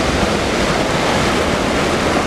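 Ocean waves break near a bike takeoff on the shore. The result is a loud, continuous roar of surf mixed with wind buffeting the microphone.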